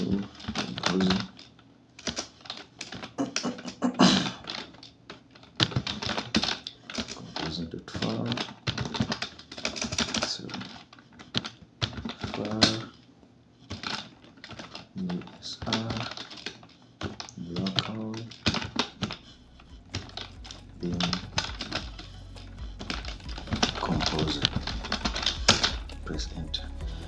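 Rapid keystrokes on a computer keyboard as commands are typed into a Kali Linux terminal, close and crisp in uneven bursts that run almost without pause.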